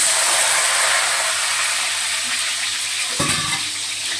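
Potatoes hit hot oil in a wok and sizzle loudly with a dense, steady hiss close to the listener, then a brief clatter near the end, with no one talking.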